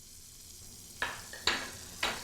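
Butter sizzling in a paella pan as ingredients are mixed into it, a quiet frying hiss broken by three sharp scraping clatters of the utensil against the pan, close up, no voices.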